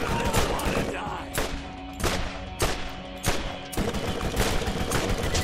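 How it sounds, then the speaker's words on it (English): Rapid gunfire from the video game Borderlands while shooting an enemy, dense bursts of loud shots in quick succession across several seconds, with brief pauses between volleys. "Keep shooting him."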